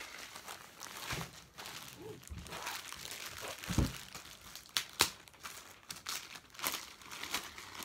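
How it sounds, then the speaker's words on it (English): Shrink wrapping on a comic book mystery box crinkles and rustles up close as it is cut and pulled apart, in scattered crackles with a few sharper snaps. "now we can cut into this shrink wrapping"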